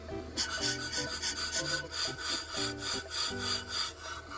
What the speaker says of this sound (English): engage the automatic feed, and that will bring the blades this way, thus machining the surface on its own